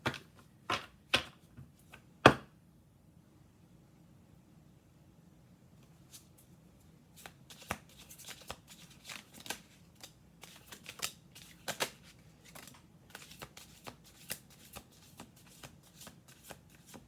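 Tarot cards are shuffled by hand in a reading, a few sharp riffles at first, then a quiet pause, followed by a long stretch of rapid irregular card flicks and taps, close and fairly soft, with no talk.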